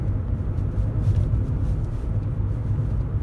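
Interior of a Mercedes-Benz E320 W210 on a test drive, a steady low engine and road rumble, loud and close, with no talking.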